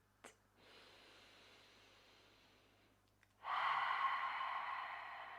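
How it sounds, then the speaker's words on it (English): A slow breath is drawn in, then a long, steady exhale through the mouth swells near the end during a yoga breathing exercise, close and soft in a quiet room. "Inhaling for 4, exhaling for 8"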